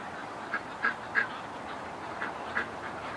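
Ducks quack a handful of times, short nasal calls scattered over steady outdoor background noise, fairly faint and distant.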